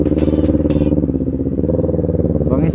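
A Kawasaki Ninja 400 motorcycle engine idles and burbles loudly up close with a steady throbbing rumble, with a few brief higher clanks near the start.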